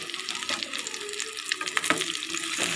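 Coconut pieces fry in a pan for coconut chutney, with a constant close sizzle and a few light scraping stirs over it.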